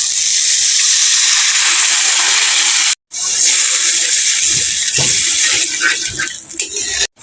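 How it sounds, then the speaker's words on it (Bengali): A little water poured onto fried masala in a pan for pabda fish curry, giving a loud, steady rushing hiss and sizzle that cuts out briefly, then continues and gradually settles with small bubbling spatters. "এখন আমি এর উপর দিয়ে দেবো সামান্য পরিমাণ জল"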